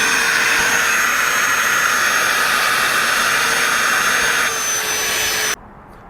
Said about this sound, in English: It's a very nice vacuum.